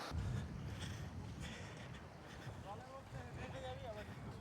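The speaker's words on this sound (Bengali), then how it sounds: "এই আমাদের বোট রাইড জাস্ট শুরু হচ্ছে।" Boat starting out on the sea at Dhublagadi beach in Odisha, a steady broadband wash of water and wind rumble at a constant level, with faint voices talking in the background.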